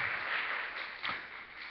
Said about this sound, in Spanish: ¿Cuántos les dan un aplauso al Señor por estos jóvenes que están llegando por primera vez al Jesus Boom Party?